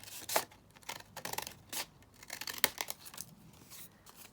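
Scissors snip through paper while making a triple fold-out book with pockets: a string of short, crisp cuts and crinkles at an irregular pace, close up, with no talking.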